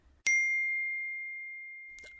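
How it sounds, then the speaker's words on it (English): A phone notification chime sounds once, a single bright ding that rings out and fades slowly over about two seconds in a quiet room, with a faint rustle at the end. "Phone buzzes again."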